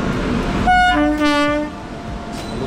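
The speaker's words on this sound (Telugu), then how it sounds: "రెండు ఇంజన్లు పోతున్నాయి" Two locomotives depart during an engine change at Karimnagar railway station, sounding a loud, sustained horn blast that rises and holds for over a second before fading into the rumbling hum of the engines.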